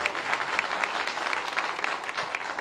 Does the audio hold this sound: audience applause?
yes